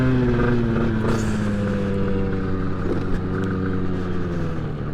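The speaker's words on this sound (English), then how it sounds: "for the sound of the water pump" A water pump on the UK's fastest street-legal moped, running steadily with a continuous engine-like hum and low rumble, fairly close and unbroken throughout.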